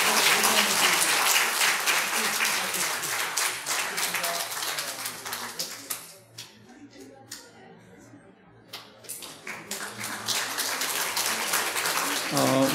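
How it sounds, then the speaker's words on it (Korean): Encouraging applause from the congregation at a church graduation after a scholarship is presented, steady dense clapping that thins to a few scattered claps midway, then swells again into full applause. "우리 또 격려의 박수 부탁합니다."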